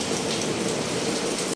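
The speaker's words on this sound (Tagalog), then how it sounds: "Umuulan mga idol oh." Steady rain falls outdoors, a dense, even hiss of drops pattering on surfaces throughout, close and continuous with no pauses.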